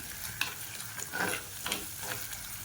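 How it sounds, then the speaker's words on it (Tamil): Onions sauté in a pan for a mutton intestine gravy, giving a soft continuous sizzle with several stirring scrapes and clicks, close but fairly quiet. "இப்போ இந்த வெங்காயம் நல்லா வதங்கட்டும்."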